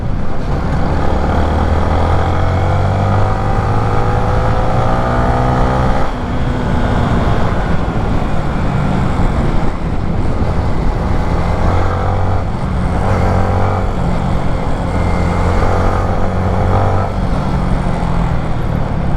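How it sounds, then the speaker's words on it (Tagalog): A 2023 Yamaha Sniper 155 single-cylinder motorcycle engine drones while riding over a bumpy road, a steady close hum with pitch rising and falling as it revs, under constant rushing wind. "Syempre may konting vibration dahil naman single cylinder to, pero smooth na siya para sa single cylinder."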